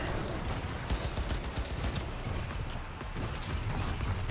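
Gunfire in Cyberpunk 2077, a dense clatter of rapid shots and mechanical rattles running continuously at moderate loudness over a rumbling game backdrop.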